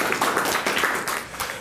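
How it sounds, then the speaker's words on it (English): Audience at a science and religion conference panel claps briefly in a round of applause, a short burst of scattered, fairly close hand claps. "full round of applause for John"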